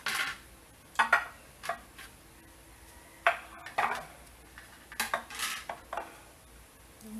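Chicken pieces shifted into a baking dish for herb-roasted chicken, heard as scattered clinks and knocks of utensils against cookware, several sharp taps spaced irregularly over quiet kitchen background, no talking.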